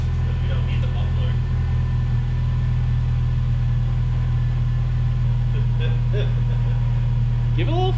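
A car engine runs steadily with its muffler cut off, a loud, constant low rumble throughout while people talk over it.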